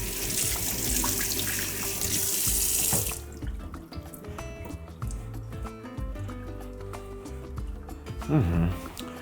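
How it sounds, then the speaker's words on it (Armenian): Cold tap water runs steadily over 800 grams of beef in a kitchen sink, a loud rush for the first few seconds that then drops to softer splashing and handling noises. "Եվս մեկ անգամ պահենք սառը ջրի տակ։"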